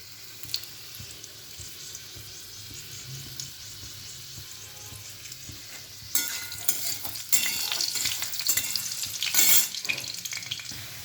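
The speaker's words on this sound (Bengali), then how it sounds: "কড়াতে আমি চিংড়ি মাছটা দিয়ে একটুখানি ফুটিয়ে নেব।" Shrimp sizzle in a wok, quiet at first, then louder and crackling as they are stirred and splash about.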